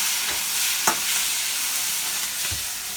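Gyoza sizzling and frying in olive oil in a pan, a steady hiss with a few brief stirring clacks, close and alone without talk.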